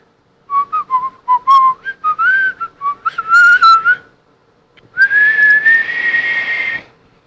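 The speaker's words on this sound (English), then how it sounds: "it's just whistling and inhaling, and then when the notes get high" A lone person whistles a melody up close, in short clear phrases that climb higher, then holds a long sustained high note.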